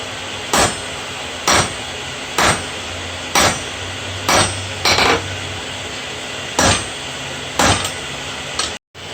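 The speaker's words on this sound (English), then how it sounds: "Heavier hammer." A heavy hammer strikes hot steel at about 1800 degrees with sharp ringing blows at a steady, evenly spaced rhythm, about eight strikes, close by, while forging a seax.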